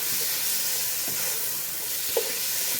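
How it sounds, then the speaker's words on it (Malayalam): Masala sautéing in a pan for chicken madhooth, a soft steady sizzle with a couple of faint stirring clicks, fairly quiet and without talk. "ഒന്ന് നന്നായിട്ടൊന്ന് വഴറ്റിയെടുക്കാം."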